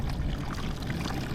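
A strong pump forces water into a container, making a steady, loud rushing and gushing pour with no breaks. It is close and there is no talk.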